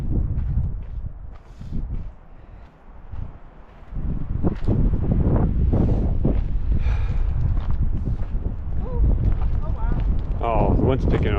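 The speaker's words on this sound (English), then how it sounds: "Oh, the wind's picking up a little bit." Wind buffets loudly against the microphone on the Mount Chapin Trail in Rocky Mountain National Park, a close, rumbling gusty roar that builds and stays strong, with voices and footsteps mixed in.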